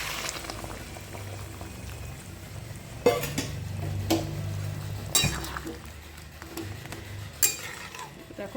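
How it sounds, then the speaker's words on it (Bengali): Boiling hot water goes into a jackfruit and potato curry in a pot, a bubbling liquid churn broken by several sharp metallic clanks of the pot and spoon. "আর এদিকে দেখো আমার ফুটন্ত গরম জল এটার মধ্যে আমি দিয়ে দিচ্ছি।"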